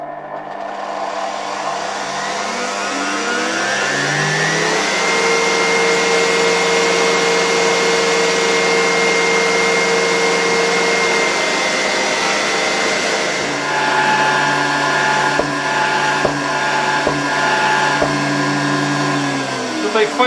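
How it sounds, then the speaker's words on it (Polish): A Zelmer vacuum cleaner motor runs on reduced voltage from a regulator, a loud steady whine that rises in pitch as it spins up, then holds at a constant drone with faint clicks and knocks near the end. "tutaj silnik odkurzacza przygotowany do testu"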